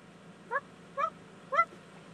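Three loud, honking bird calls at even intervals, each a short nasal blare with clear harmonics, over a low background hum.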